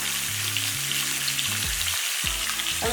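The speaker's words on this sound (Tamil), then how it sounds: "இந்த எண்ணெயிலே நல்லா பொறிச்சு எடுத்துக்கலாம்" Chilli, salt and turmeric fry in hot oil on a low stove flame, making a steady close sizzle and crackle with no voices.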